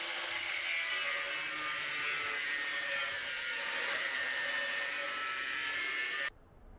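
A 4 mm steel plate being cut for a rocket stove top, with a loud, steady, high-pitched grinding screech that runs unbroken for about six seconds and then stops abruptly.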